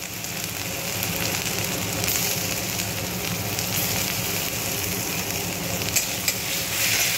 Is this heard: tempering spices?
yes